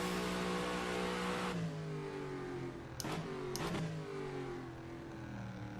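The engine of a Ford GT40 in the rFactor racing game screams at high revs, then drops sharply into falling engine-braking tones. There are quick blips at a gear change, and the engine stays loud and close with no talk.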